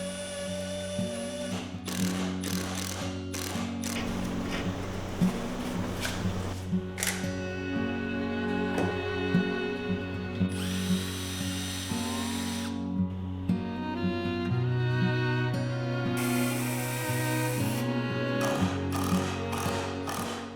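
A power drill drives screws into a wooden framework during a test fit, with repeated whirring bursts that rise and fall in pitch, close and loud, with short pauses between screws.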